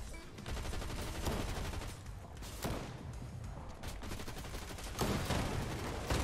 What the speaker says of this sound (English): I hear so many gunshots